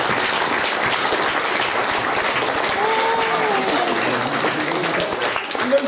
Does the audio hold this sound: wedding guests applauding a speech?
yes